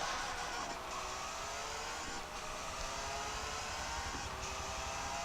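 A Bugatti Chiron's engine in the Forza Motorsport 7 racing game hums at a steady, moderate level, a continuous whine and drone that rises slightly in places, with no talking.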